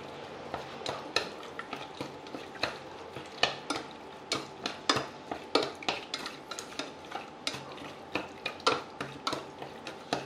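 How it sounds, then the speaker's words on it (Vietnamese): Pork belly is tossed with fish sauce, caramel sauce and cooking oil in a bowl, producing a steady run of close wet clicks and scrapes of a utensil stirring in a regular rhythm. "Sau đó Duy trộn đều lên."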